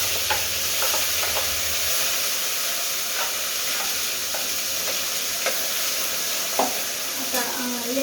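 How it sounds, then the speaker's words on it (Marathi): Masala paste for matar paneer is stir-fried in hot oil with cumin seeds, sizzling steadily while a spoon scrapes and taps against the pan now and then. "ही जी पेस्ट बनवली ती आपण पेस्ट परतून घेऊया"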